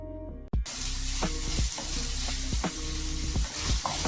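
Onions dropped into a pan of frying green chilli, ginger and garlic set off a sudden loud sizzle that holds steady, broken by occasional spatula scrapes and stirring knocks, close up.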